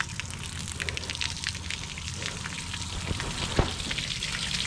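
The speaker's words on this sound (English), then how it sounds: "it sounds like there's a ton of water flowing out the back" Water pours steadily out of a boat's open drain plug hole, a continuous splashing and hissing rush close by with a few sharper drips.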